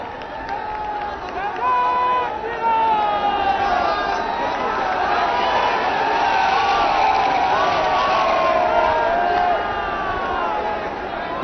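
A large crowd cheering and whooping for the Prime Minister at a public event for women's self-help groups, a sustained roar of many voices with shrill shouts rising and falling throughout.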